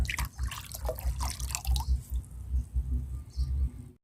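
Leftover coffee poured into and mixed with plain water as a homemade plant fertilizer, heard as close, irregular dripping and splashing liquid through the whole stretch, ending abruptly.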